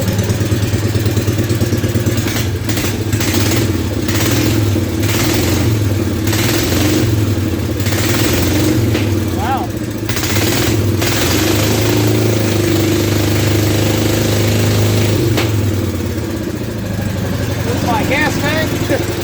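The engine of a John Deere Gator utility vehicle runs continuously up close after frame repair, a loud steady mid-pitched idle with repeated revving bursts, while someone talks over it at times.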